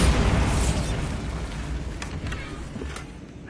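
Bombarda spell explosion in the video game Hogwarts Legacy, one loud close boom that rumbles and then fades into crackling, scattering debris.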